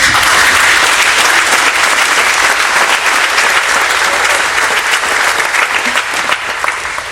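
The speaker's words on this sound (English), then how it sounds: "I think he deserves a hand clap of praise" A breakfast crowd at a Habitat housing fundraiser breaks into loud, sustained applause, dense clapping from many hands that holds steady for several seconds before thinning slightly.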